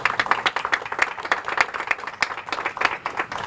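A small outdoor crowd claps at a groundbreaking ceremony for a new tennis center, sparse uneven handclaps with distinct individual claps rather than a dense roar, close and moderately loud, with no talk.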